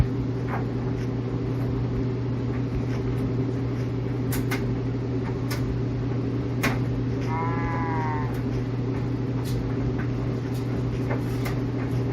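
A sheep in Minecraft Bedrock Edition bleats once, a wavering mid-pitched call, over a steady mechanical hum with occasional faint clicks.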